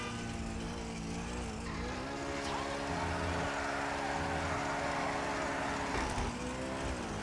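An all-wheel-drive car drifting in GTA V Online, its engine droning steadily while the tires squeal and skid in long, continuous slides, moderately loud and close.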